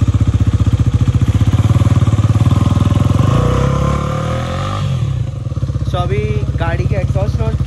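A Husqvarna Vitpilen motorcycle engine runs close by with a loud, steady, rapid thumping idle and a slight rise in pitch, while someone talks over it in the second half.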